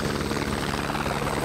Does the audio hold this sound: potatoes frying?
no